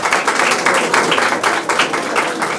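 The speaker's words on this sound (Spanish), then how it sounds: "Un aplauso para ellos, por favor." An audience claps at an office reinauguration ceremony, loud and sustained. The sound is a dense patter of many hands with slight surges, close and continuous throughout.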